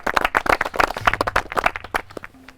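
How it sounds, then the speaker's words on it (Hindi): Audience clapping for the finalists at a reality show finale, a dense burst of many hands close by that thins out over a couple of seconds, with a faint low hum underneath. "उनके लिए ज़ोरदार तालियां एक बार"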